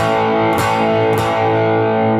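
Electric guitar with a half-distorted tone, strings picked hard near the bridge, giving two sharp aggressive attacks over a sustained, gritty ringing chord, loud and alone.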